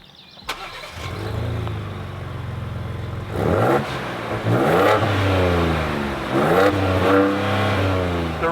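A tuned Ford Ranger Raptor engine starts, idles, then revs hard in repeated rising pulls, loud and close, with no talk.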